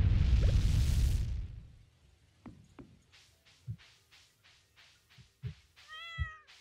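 A cat meows in the Stardew Valley video game, after a fading whoosh: a run of short, soft repeated game sounds with several meow-like calls, fairly faint, with no talking.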